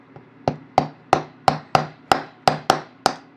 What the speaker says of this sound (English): Now let's get out our block and see whether we can tap that feed out of there.